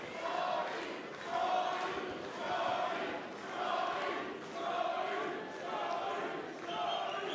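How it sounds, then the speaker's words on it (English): Crowd at a professional boxing match, a faint, distant murmur that swells and fades in a steady rhythm beneath a commentator's voice. "You can hear the crowd."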